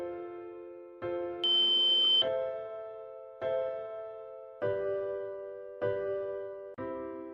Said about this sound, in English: there will be a long beep and the LED will blink green